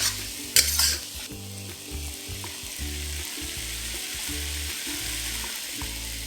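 Lotus root stir-fried in a pan with sugar and pepper, sizzling steadily while a utensil stirs and scrapes in rhythmic strokes, a sharp clatter near the start, loud and close with no talk.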